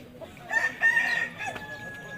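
An Aseel rooster crows at a rooster fair in Mianwali, a strained, drawn-out call rising over a busy outdoor crowd murmur with other birds faintly in the background.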